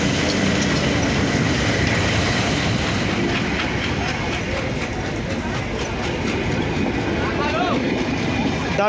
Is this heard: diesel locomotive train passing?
yes